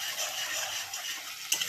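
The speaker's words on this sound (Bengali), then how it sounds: "দেখো পেঁয়াজ আদা রসুন ভাজা হচ্ছে" Onion with ginger-garlic paste fries in a pan, giving a dense, continuous close sizzle with a faint clink near the end.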